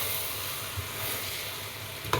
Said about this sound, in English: And then let's stir it.